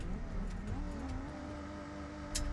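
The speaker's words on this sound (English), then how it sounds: "We can actually hear the car now." A car engine with a newly fitted exhaust in the BeamNG driving game, droning steadily with a rich, shifting harmonic tone as revs rise and fall, plus a brief sharp burst near the end and no talk.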